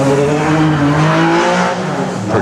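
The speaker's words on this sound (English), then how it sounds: "As we see Matt Evans in his Holden Commodore now making his way to the top." A Holden Commodore race car climbs a hillclimb course under hard acceleration, its loud engine note rising steadily and close by, with a brief dip before surging again.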